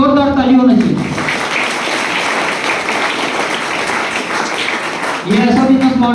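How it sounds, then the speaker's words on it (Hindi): Audience applause at a direct selling business presentation, a full burst of clapping rising between stretches of someone speaking into a microphone at the start and end. "एक बार इसके लिए जोरदार ताली होना चाहिए"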